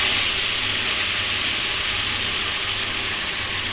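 Spice paste hits hot oil with black cumin seeds and erupts into a loud, dense, steady sizzle close by, hissing evenly throughout.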